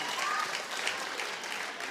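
A studio audience at a talk show breaks into steady, full applause that holds evenly for the whole stretch, with a faint voice mixed in.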